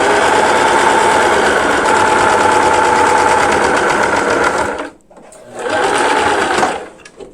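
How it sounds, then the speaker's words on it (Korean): A sewing machine stitches a ribbon scarf in a loud, steady, fast whirring run, stops briefly, then runs again in a shorter burst before falling quiet. "가볍게 움직여서 선대로 박아줍니다."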